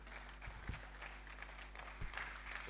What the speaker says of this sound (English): Please give a round of applause for Iwere again.